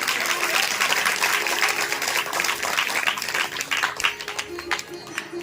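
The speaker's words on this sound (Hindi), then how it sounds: "अगर पैसा नहीं लग रहा हो तो ताली भी बजा दीजिए आप लोग।" Audience applause at a Pragya Puran religious discourse: dense, steady clapping from a crowd fills the whole stretch, loud and close, thinning slightly toward the end with some individual claps standing out.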